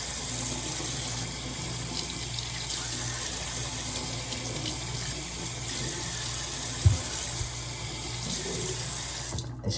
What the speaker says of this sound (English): I'm rinsing this, I'm dumping it in water